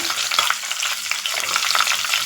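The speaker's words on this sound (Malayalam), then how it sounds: "ആദ്യം കടുക് ഇട്ടിട്ടുണ്ട് പിന്നെ കുറച്ച് ഉലുവയും കൂടെ ഇട്ടിട്ടുണ്ട് ഇതൊന്ന് പൊട്ടി വരട്ടെ" Mustard and fenugreek seeds splutter in hot oil in a clay pot for pickle, a loud, steady crackling sizzle with dense popping throughout and no voices.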